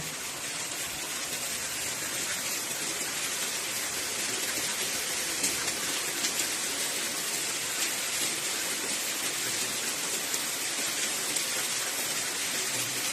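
Rain falling outside while cooking goes on indoors, a steady, dense patter and hiss that holds evenly throughout, with occasional sharper drops.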